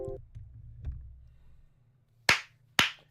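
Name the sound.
Sliker clapping hands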